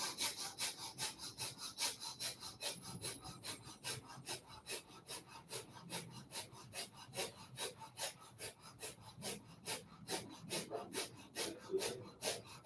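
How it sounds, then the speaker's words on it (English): Rapid, rhythmic breath of fire yoga breathing, with equal force on the inhale and exhale driven by the belly, heard as quick, evenly spaced puffs of air through the nose repeating for over twelve seconds, close and soft, with no talking. "breath of fire is the same intensity that you put on the inhale and the exhale, and it's a belly movement actually"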